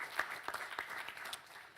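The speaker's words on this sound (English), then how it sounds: "So a quick round of applause." A short burst of audience clapping at a panel discussion event fades out after under two seconds, with a few distinct claps standing out over a quiet room.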